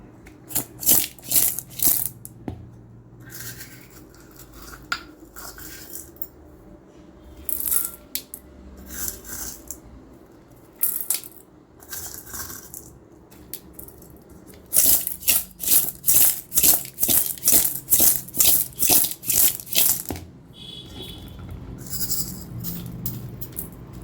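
A knife slices raw mango into small pieces for Chettinad-style mango vathal, giving bursts of crisp, rapid cutting clicks with short pauses between runs, close and moderately loud with no talking.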